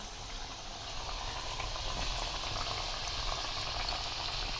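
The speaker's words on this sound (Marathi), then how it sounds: "इकडं आपलं तेल तापलेलं आहे आणि याच्यामध्ये बघा अलवडे सोडला" Alu vadi slices frying in hot oil, a steady dense bubbling hiss that stays even and close for the whole stretch with no talk.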